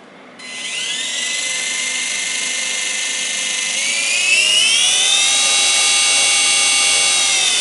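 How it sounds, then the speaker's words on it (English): A tiny electric motor spins up to very high speed, a loud, close, steady whine that climbs in pitch partway through and then holds, with no voices. "Now look at that little motor in there. And imagine how fast that has to be spinning."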